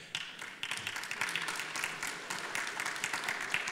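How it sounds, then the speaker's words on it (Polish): Applause from a symposium audience at a panel of elder experts, a steady, moderately faint clatter of many hands clapping that starts abruptly and carries on evenly without voices. "Tak właśnie się spodziewałem, że ta przestrzeń na brawa tutaj powinna zostać przyznana"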